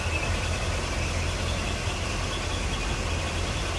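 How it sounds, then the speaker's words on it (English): A stock 318 (5.2 liter) V8 idling steadily in its engine bay, its low rumble constant and close with the AC compressor engaged, no talk over it. "AC compressor kicking on and off, as you can hear there."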